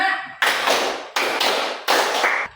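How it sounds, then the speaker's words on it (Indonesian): Three sharp group claps ring out in a steady rhythm, each a loud broadband burst with a short decaying tail, as a class of students stands and claps in a counting concentration game. "Tepuk 1, tepuk 2, tepuk 3, tepuk 4, tepuk 5"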